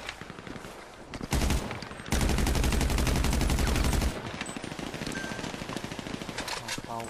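Rapid automatic fire from the special carbine in GTA 5 Online: dense, loud bursts of gunshots, one sustained volley running over a couple of seconds, then lighter scattered shots, with a voice talking underneath.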